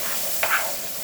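Sweet peppers frying with herring in a pan, a steady close hiss of oil sizzling throughout with a small stir or pop partway through, no talk.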